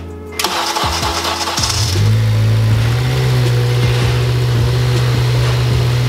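An 8th-generation Honda Civic engine, turbo build, cranks and catches, then settles into a loud, steady idle hum close by, with no voices.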